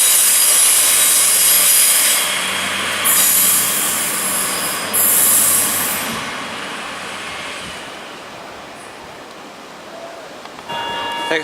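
A Class 142 diesel train passes through a station. A loud, near rumble carries high wheel squeals at first, then eases and fades as the train moves away.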